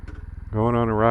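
A Kawasaki W800 motorcycle engine runs near and loud, shifting from a pulsing idle to a steady rising drone as the ride begins.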